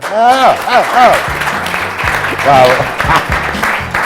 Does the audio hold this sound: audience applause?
yes